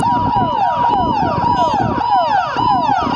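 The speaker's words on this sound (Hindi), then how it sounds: "इस वीडियो अभी देखेंगे कि कैसे एम्बुलेंस आ रहा है और कैसे एम्बुलेंस जा रहा है" An ambulance siren sounds during a mock emergency drill, wailing loud and close in rapid repeating up-and-down sweeps that continue steadily throughout.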